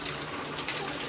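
Warm water runs steadily from a tap during an indoor shower for a military macaw parrot, a constant close hiss and splash with no breaks.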